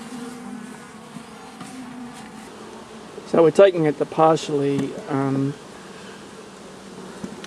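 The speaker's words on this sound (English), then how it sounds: "Just shake the few remaining bees out" Honeybees hum steadily around a hive frame as the last few are shaken and brushed off in spring hive work. Someone talks over the buzzing partway through.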